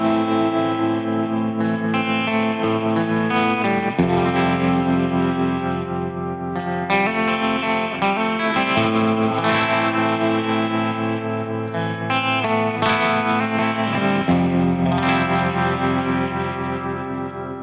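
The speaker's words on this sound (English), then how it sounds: "Tremolo is an effect that creates variations in volume by modulating the guitar signal, resulting in a rhythmic, pulsating or wobbly sound" Electric guitar played through a tremolo effects pedal, a steady run of chords and notes with a slightly distorted, modulated tone, loud and continuous with no voices.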